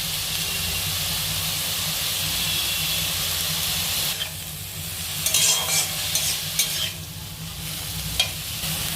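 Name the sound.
garlic and ginger frying in oil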